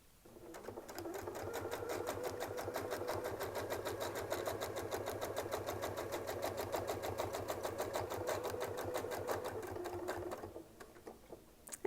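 A sewing machine stitches steadily through a quilt medallion for about ten seconds, its fast, even needle rhythm holding at one close, constant level before stopping.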